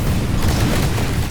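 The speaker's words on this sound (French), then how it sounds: "je vais me faire exploser" A continuous low boom rumbles through the whole stretch in a Titanfall match, dense and loud with steady bass weight and no clear start or end, like a sustained in-game explosion.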